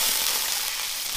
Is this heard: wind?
no